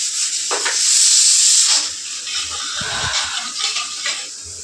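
Loud, close hiss of steam escaping from a pressure cooker, swelling then gradually easing off with some clattering underneath.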